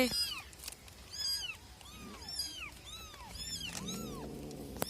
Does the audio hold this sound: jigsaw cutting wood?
no